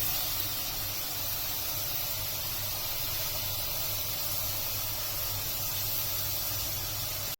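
Tapioca chips fry in hot oil, a steady, dense sizzling hiss that holds at an even level throughout with no pauses.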